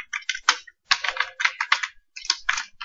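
Close, crisp typing on a computer keyboard as HTML code is entered, in quick uneven bursts of keystrokes with brief pauses and no voices.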